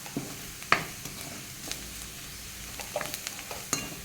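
Spices such as red chilli powder, onion-garlic masala and coriander powder sautéing in a pan for a soybean paratha filling, with soft intermittent sizzling and scattered scraping stir clicks, quiet and close.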